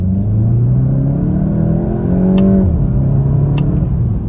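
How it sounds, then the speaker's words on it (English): A 2022 VW Mark 8 GTI with a 7-speed DSG accelerates hard in second gear, a steady rising engine drone that climbs in pitch, dips briefly at a gearshift around two and a half seconds, then pulls on loud and close with no talking. "second gear, on the gas"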